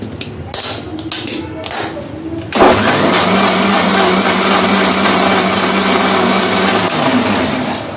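An electric mixer grinder blends a watermelon drink with mint leaves. After a few quieter seconds it switches on abruptly into a loud, steady, close whirring roar that runs unbroken to the end.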